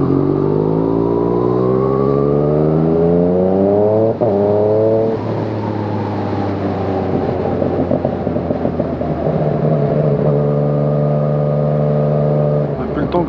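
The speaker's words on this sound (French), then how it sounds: "si vous entendez bien le bruit du shifter là" Yamaha MT-09 motorcycle fitted with an Arrow exhaust and a quickshifter, revving hard through rapid upshifts with rising engine tones cut by sharp shift breaks, loud and close throughout.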